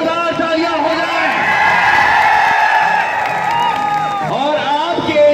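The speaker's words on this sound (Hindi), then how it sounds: "हम चाहते हैं इनके लिए आप सबकी एक बार जोरदार तालियां हो जाए" Big audience claps, whoops and cheers for an actor at a live comedy show in India. The roar of voices and applause is loud and sustained, with shouts rising above the crowd.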